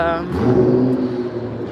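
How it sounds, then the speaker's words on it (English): A Nissan GT-R sports car revs nearby with a loud, rumbling engine note that surges briefly and then settles into a steady drone, with voices faintly present. "I forgot what kind of car that was. Oh, a GTR."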